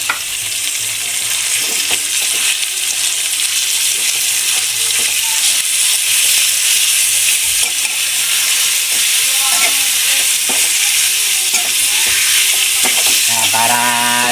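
Ground pork for lumpiang shanghai fries in a pan, a loud continuous sizzle and hiss with occasional stirring scrapes, close up and with no talk.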